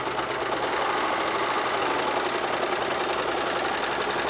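A Baby Lock serger sewing machine stitches fabric steadily at high speed, a continuous dense mechanical whirring and rapid stitching clatter with no pauses.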